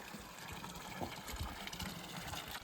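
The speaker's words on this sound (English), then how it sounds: "crystal clear water flows endlessly from the rock under a wooden cross" Cold spring water runs from rock beneath a wooden cross on a remote Romanian mountain route, making a soft, continuous gush and trickle at low level with small splashy fluctuations.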